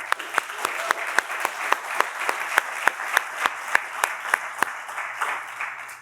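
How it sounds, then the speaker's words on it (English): An audience claps for the presenters at a showcase lightning-round event: evenly spaced, sharp hand claps form a steady rhythm at moderate volume, then thin out and fade near the end. "Let's give all the presenters a round of applause."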